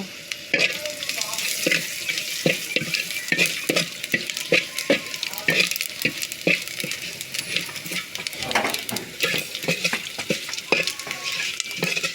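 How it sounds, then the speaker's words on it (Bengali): Panch phoron and cumin seeds frying in hot oil alongside chopped onion, a close, busy sizzle broken by rhythmic spatula scrapes and clinks against the pan, continuing steadily without talk. "পাঁচ ফোড়ন দিলাম তার সাথে জিরাও ছিল"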